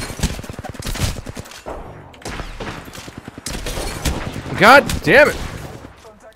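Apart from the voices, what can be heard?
gunfire from Peacekeeper shotgun in Apex Legends video game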